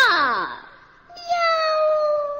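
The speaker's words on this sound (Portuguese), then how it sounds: "Deixe o gatinho miar." A single close cat meow, sliding downward in pitch, followed by a steady high whistling tone.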